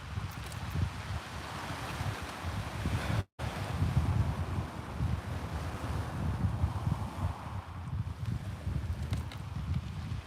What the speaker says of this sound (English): Wind's picking up now, though, ain't it?